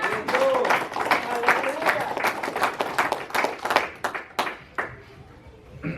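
Clapping from a church congregation during a sermon rings out in sharp, uneven bursts, with voices calling out over it; the clapping thins and trails off toward the end.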